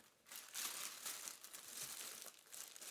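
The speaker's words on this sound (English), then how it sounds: "slide the bag off, and be very careful and reuse or recycle that clear plastic bag thoughtfully" A clear plastic bag slides off a watch winder with steady close crinkling and rustling for about three seconds, loud and continuous with brief swells, no talk.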